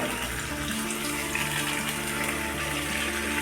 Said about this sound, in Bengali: ওটা ধুয়ে একটু সামান্য জল দিয়ে দিচ্ছি